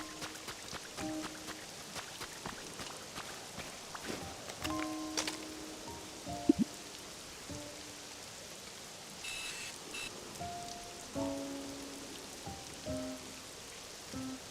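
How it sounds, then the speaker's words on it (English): Calm rain ambience in the video game Pokopia, soft steady patter of drops forming a quiet background bed, dotted with faint short tones and small clicks. "you can vibe to the calm rain"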